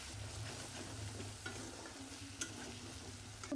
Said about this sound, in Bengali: তেল ভালো করে কষিয়ে নেবো।